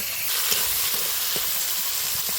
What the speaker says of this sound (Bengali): কেটে রাখা পেঁয়াজটা দিয়ে দিব, সঙ্গে কেটে রাখা টমেটোটাও দিয়ে দিব। এবার ভালো করে নাড়িয়ে নিব।